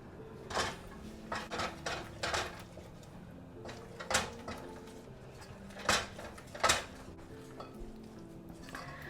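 Bechamel sauce being stirred in a pot, with a utensil knocking and scraping against the pot in irregular clinks that come and go over a quiet kitchen background.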